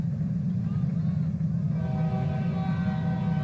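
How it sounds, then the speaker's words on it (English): A train passes near a soccer stadium, its broad low rumble continuous and loud, with a rising set of steady horn-like tones joining in the second half. "The train is going by."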